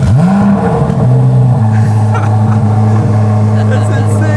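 A new Corvette C8 Z06 fires up with a rising starter whine and then settles into a loud, deep, steady idle that fills the space, a close and powerful rumble with no talk over it.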